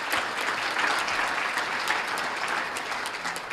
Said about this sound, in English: let's have another nice round of applause for all of our nominees